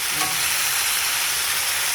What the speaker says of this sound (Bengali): ভাজা বুঝি খুব সুন্দর ভাজা হয় মাছ ভাজা